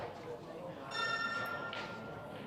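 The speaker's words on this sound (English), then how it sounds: "we hear the bell for 15 seconds a shot" A bell ringing in a live-streamed game show: a bright, sustained metallic ring with clear overtones, heard briefly and fairly faintly beneath a voice speaking.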